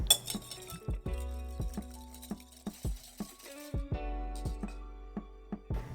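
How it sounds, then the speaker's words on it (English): Egg yolks and a tablespoon of milk whisked together in a bowl for Japanese soufflé pancake batter, a quick run of sharp metallic clinks against glass or ceramic, close and fairly loud, with brief pauses between strokes. "add 1 tablespoon of milk to your 2 yolks and mix till they're properly incorporated"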